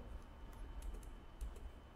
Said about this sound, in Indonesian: dengan mengetik HTML lalu tekan tab